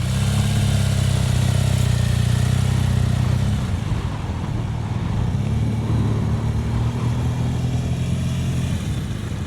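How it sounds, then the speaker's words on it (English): A BMW GS Adventure motorcycle makes a standard U-turn during CBT training, its engine droning steadily nearby and the pitch dipping and rising as it turns and pulls away. "now Mark and Toby are going to do the U-turn, standard U-turn from a CBT on a BMW GS Adventure"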